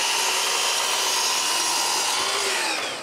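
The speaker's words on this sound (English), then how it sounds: "Then it's time to cut 4 pieces of plywood for the side of the box I want to make." Power saw cutting four plywood pieces for the sides of a small box, a steady bright whine held for several seconds, close and loud with no talking.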